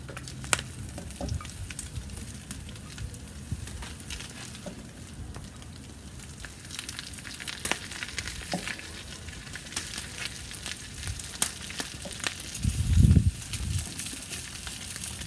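Peppers and onions sizzling over loaded potatoes on a kettle grill outdoors, a faint steady crackle with scattered pops and clinks and a brief louder thump near the end.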